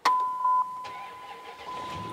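An old, worn-out, beat-up Hemi pickup truck engine cranks and catches, with a steady electronic warning chime ringing over the engine noise throughout the short start.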